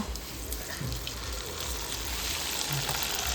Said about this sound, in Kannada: ಇದೇ ರೀತಿ ಎಲ್ಲವನ್ನು ಫ್ರೈ ಮಾಡಿದರೆ ಆಯಿತು.